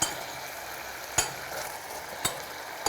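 Mutton spleen and kidneys with vinegar simmer in a pan, a soft continuous sizzle and bubble with two sharp clinks of a utensil against the pan.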